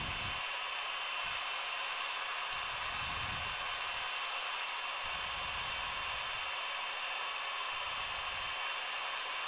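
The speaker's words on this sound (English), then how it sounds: "just keep moving your heat gun around" Heat gun blowing steadily to melt embossing powder on polymer clay, a continuous close airy roar like a hair dryer with no talking.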